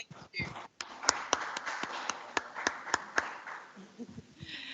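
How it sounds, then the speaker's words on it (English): A small group claps for a few seconds at an SME export certification awareness event in Malawi, sharp separate claps rather than a full ovation, after a brief bit of talk. "Huge round of applause for Mida."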